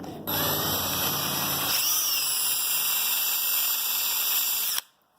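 A power drill whirs loudly and steadily at close range while drilling plastic for a mower air filter housing, its pitch shifting as it bites in, then stops abruptly.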